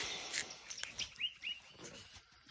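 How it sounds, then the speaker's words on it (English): Small birds chirping outdoors, a few soft, quick tweets and short whistled calls heard at a moderate distance over faint background ambience. "Hope you're happy chirping away like the birdies."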